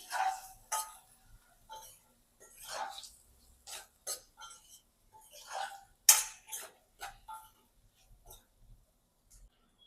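A spoon stirs turmeric, salt and drumstick pieces together in a cooking pan, giving a series of scattered metallic clinks and scrapes with short pauses between them, close and fairly quiet.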